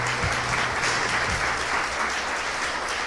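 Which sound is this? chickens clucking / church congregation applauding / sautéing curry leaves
church congregation applauding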